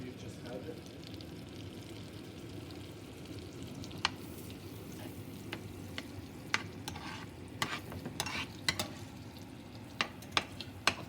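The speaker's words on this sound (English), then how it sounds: "let the butter melt. Let it cook little with the garlic" Butter melts and cooks with garlic and pepper in a pan for salmon, giving a low, steady sizzle with scattered sharp utensil clicks that grow more frequent toward the end.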